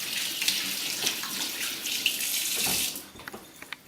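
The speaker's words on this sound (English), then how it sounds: "And then turn the water on and put them underneath." Tap water runs steadily into a kitchen sink as hands are rinsed of soap beneath it, a close hissing splash with small drips and splatters toward the end.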